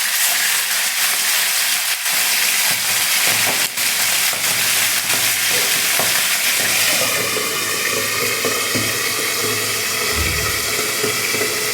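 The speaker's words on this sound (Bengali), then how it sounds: "মাছগুলো আমার ভাজা হয়ে গেছে" Pomfret fish fry in a pan with a steady, loud hiss and sizzle that runs throughout, shifting slightly in tone partway through, with no voices.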